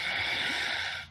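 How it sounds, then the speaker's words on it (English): A short, close nose blow: a single breathy, snorting burst lasting about a second, then abrupt quiet. "Thank you for blowing my nose."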